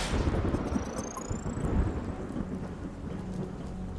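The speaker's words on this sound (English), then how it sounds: "Oh, and there was a storm." Stormy night at a video-game dock in UnMetal: steady heavy rain hisses across the whole stretch while deep thunder rolls and rumbles, loud and close, with no voices.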